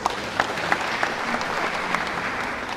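Mourners at a memorial celebrating the life of a late professor give a sustained round of applause, dense even clapping with a few sharper claps standing out.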